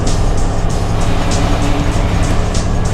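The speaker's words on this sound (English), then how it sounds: "Look at all these trucks here." Road traffic near a Costco, with cars and trucks rumbling past in a loud, continuous roar, broken by repeated whooshes of passing vehicles and no talk.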